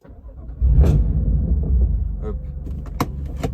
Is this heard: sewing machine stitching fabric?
no